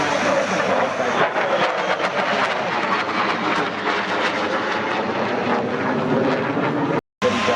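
A Globemaster military transport aircraft passes overhead at an airshow, its loud, steady engine roar filling the air for several seconds before cutting off abruptly near the end.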